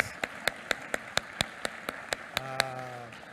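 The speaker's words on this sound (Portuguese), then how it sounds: "uma salva de palmas" Sparse audience clapping at an agribusiness talk: a steady run of sharp, evenly spaced claps at about four per second, fairly faint, ending under a brief sustained tone.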